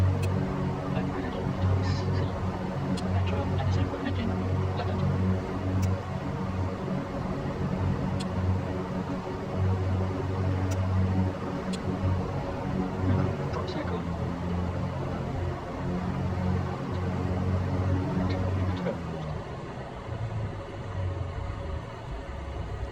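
A twin-engine aircraft's engines drone steadily during a pre-takeoff run-up with the mixture full, a sustained near, loud hum with harmonic tones and slight shifts in pitch near the end, no voices heard.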